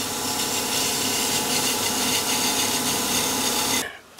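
Wood spinning on a lathe as it is turned and tapered, a loud, continuous rasping shear of the cutting tool that holds steady and then stops abruptly near the end.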